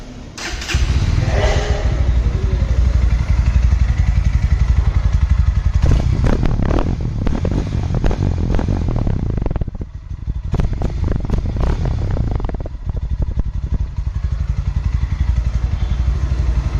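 Loud exhaust note of a Bajaj Pulsar NS160 motorcycle, idling close by and then blipped through several sharp revs with crackling bursts, with no talk over it.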